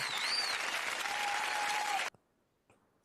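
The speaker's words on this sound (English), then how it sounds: "This deserves applause." A football crowd at an Everton versus Manchester United match applauds loudly and steadily for about two seconds, a dense roar of clapping that cuts off abruptly, followed by near silence with a faint sound at the end.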